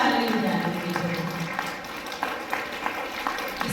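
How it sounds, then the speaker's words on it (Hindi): An audience claps together at a Brahma Kumaris Trimurti Shiv Jayanti celebration in Fatehabad, a steady dense patter of hands with a few sharper claps standing out near the end. "आप तालियां बजा के अपनी खुशी व्यक्त कर सकते हैं"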